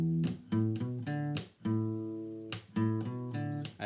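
An electric guitar plays a riff on the bottom strings mixed with open strings, moving through short rhythmic notes with ringing sustained chords, clear and close, with no voices.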